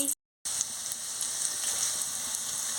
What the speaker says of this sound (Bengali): পেঁয়াজটা লাল লাল করে ভাজা হয়ে যাচ্ছে